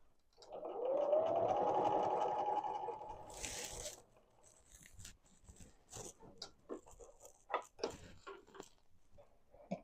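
A sewing machine runs steadily for about three seconds while stitching a circles quilt, then stops, leaving scattered soft clicks and fabric handling sounds close by.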